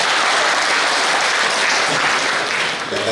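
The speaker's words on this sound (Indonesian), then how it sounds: "tepuk tangan untuk beliau." Loud, dense audience applause at a farewell and welcome ceremony for a regional head in Pati, a continuous roar of clapping from a large crowd throughout.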